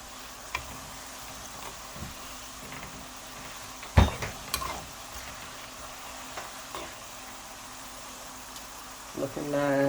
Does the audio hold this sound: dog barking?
no